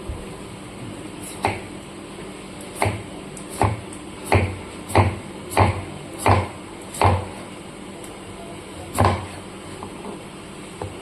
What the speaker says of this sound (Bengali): লাউটাকে আমি ছুলে নিয়েছি, এবার কেটে নিচ্ছি।